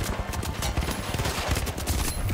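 A FAMAS assault rifle fires in The Finals, a rapid, continuous stream of close, punchy shots with an even rhythm, uninterrupted by talk.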